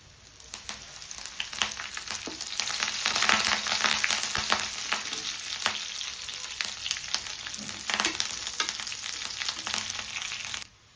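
Crushed garlic and curry leaves sizzle and crackle steadily in hot oil in a pan, a loud, dense frying hiss with occasional stirring scrapes and pops, no voices.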